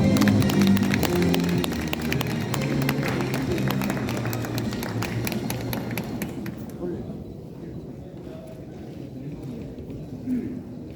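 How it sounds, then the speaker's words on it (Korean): An audience at an award ceremony for a national native orchid exhibition gives dense, steady applause for about seven seconds, then the clapping stops abruptly, leaving a quiet hall with faint background sound. "축하의 박수 부탁드립니다"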